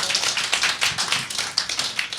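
Applause breaks out at the Bouyah d'Or 2022 awards, a quick, fairly close burst of clapping with sharp, crisp hand claps lasting a couple of seconds, no talking.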